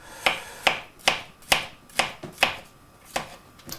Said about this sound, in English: we're going to chop up just a few mushrooms, like so